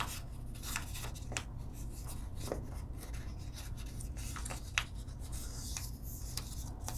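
Paper being reverse-folded into an origami bird gives soft, close rustling, creasing and rubbing sounds with a few light taps, quiet and continuous.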